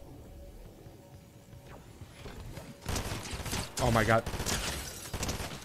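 Rapid bursts of gunfire from a Fortnite Chapter 5 match crackle through the second half, loud and clustered, with a person exclaiming over them.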